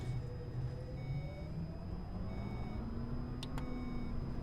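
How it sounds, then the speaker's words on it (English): Electric bus in the OMSI 2 bus simulator, a Solaris model on a Polish route, giving a low steady motor drone with a faint rising whine and two short high beeps near the end, no talking. "it sounds like an electric bus"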